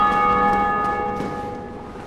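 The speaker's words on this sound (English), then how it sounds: "Oh, we heard a bell ring." A church bell tolls in the video game Dark Souls, a single rich, sustained ring whose shimmering overtones slowly fade over about two seconds, heard alone and fairly loud.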